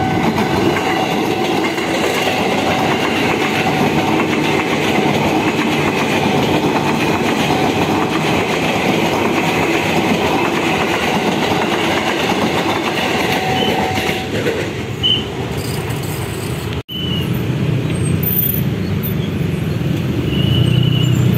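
A commuter train to Cikarang rolls past on the rails in Jakarta, loud and continuous, with steady clattering from the wheels and a brief dip near the end.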